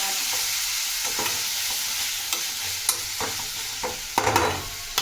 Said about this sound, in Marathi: हे आपले भरीत आपण तेलामध्ये सोडून आणि फ्राय करून घेऊया।